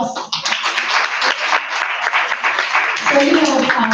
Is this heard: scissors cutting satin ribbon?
no